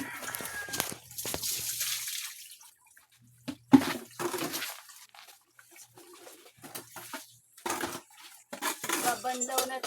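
Water splashes and pours in uneven bursts as swimmers rinse seawater off their bodies after a sea swim at Dolo Boulevard, with voices chattering nearby between the gushes.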